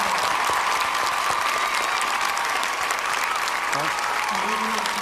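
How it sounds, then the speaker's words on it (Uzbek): Studio audience at a singing competition for contestants over fifty applauds steadily and loudly for a contestant, a dense, even clapping that lasts the whole stretch with crowd noise mixed in. "Olqishlab qo'yamiz Suvon Bahronov."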